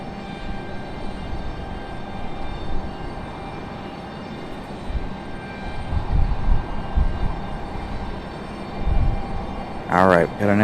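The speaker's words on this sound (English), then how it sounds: "Alright, we got our next departure. That E-175 that was back here in the alleyway." Embraer E-175 jet departing at Raleigh-Durham International Airport, a steady distant engine roar with rumbling swells, then a voice speaking at the end.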